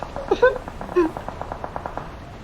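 Enemy gunfire aimed at the player in a video game: a few sharp bursts early on, then a steady run of quick, evenly spaced shots at moderate loudness.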